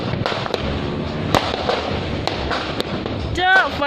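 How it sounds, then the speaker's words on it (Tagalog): Fireworks at a town celebration burst in a run of sharp pops and cracks over a steady crackling din, with people talking and calling out nearby, and a whistling rise near the end. "Fireworks oy."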